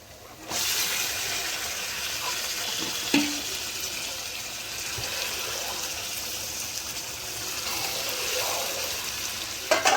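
Spice paste for a country chicken curry fries in oil, a dense steady sizzle and hiss that holds for the whole stretch, with a couple of faint clicks from stirring.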